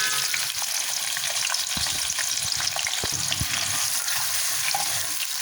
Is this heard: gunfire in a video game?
no